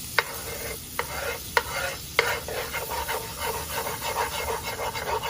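Garlic sizzles in butter in a skillet for creamy Tuscan salmon while a utensil stirs and scrapes it, with several crisp clacks early on, then a continuous close frying hiss.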